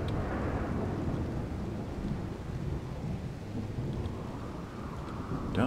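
Steady rain and low rumbling thunder from the video game RimWorld, a continuous moderate storm wash with no voices.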